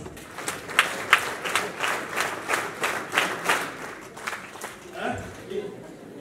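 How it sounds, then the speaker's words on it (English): An audience at a digital innovation summit in Nairobi claps together about ten times in a steady rhythm. A short bit of talk follows at the end. "let's do a test. 10 claps."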